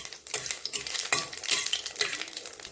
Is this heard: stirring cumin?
yes